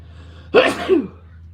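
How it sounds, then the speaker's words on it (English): One sharp, close sneeze sets off with an abrupt burst and trails into a second, breathy peak, then fades into quiet room noise. "That's a lot of spicy terpenes that made you sneeze"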